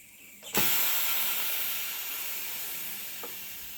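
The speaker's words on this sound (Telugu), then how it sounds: "కుక్కర్ విజిల్ అయితే తీస్తున్నాను." Steam bursts from a pressure cooker as its whistle is lifted off while cooking a beetroot and tomato curry, a sudden loud hiss that stays strong and slowly fades over a few seconds, with a faint clink near the end.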